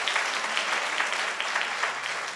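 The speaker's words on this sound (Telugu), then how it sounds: "గట్టిగా చప్పట్లు కొట్టండి విశ్వసించిన వాళ్ళు" A church congregation claps loudly together during a sermon, a continuous wash of many hands with small rhythmic surges, heard without talk over it.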